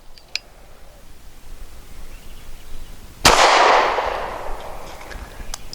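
A single loud, close shot from a Walther PPS M2 pistol firing a 115 grain round at a steel target, a sharp crack followed by a long fading outdoor echo, with no voice.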